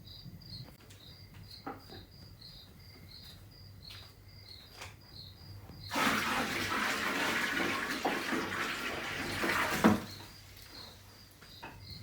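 Aquarium water being drained and refilled during a tank change: a steady broadband rush of pouring water swells for several seconds mid-clip, over quieter background with faint insect-like chirps.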